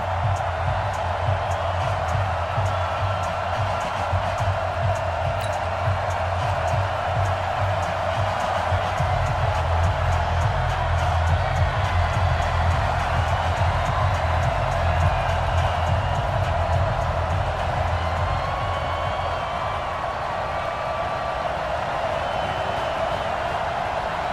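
Stadium crowd in a Madden 20 NFL video game before a Rams versus Falcons kickoff, a steady wash of crowd roar with low rumble holding evenly throughout, no clear peaks of cheering.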